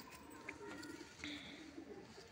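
Red pure Punjabi Malwai pigeons coo softly in a loft, with low murmuring calls and faint chirps over a steady background hum.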